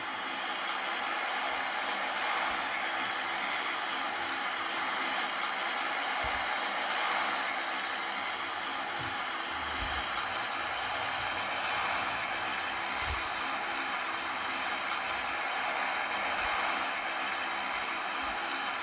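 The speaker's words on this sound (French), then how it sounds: "Allez, on va se faire le petit décollage." Aircraft takeoff in the game Fortnite played on a Motorola One Action phone, a steady broad engine roar held at an even level throughout, with occasional low thumps and no speech.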